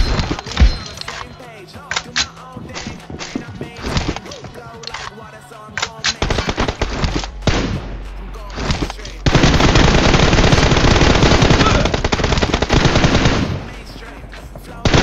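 M416 assault rifle fire in a team deathmatch shooter video game, with loud, close rapid automatic bursts and single shots, ending in a sustained long burst of fire.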